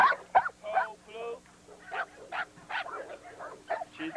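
A female double bred blue bully dog of about 80 pounds barks, yips and whimpers in short irregular bursts from a kennel yard, fairly close, with a voice talking at times.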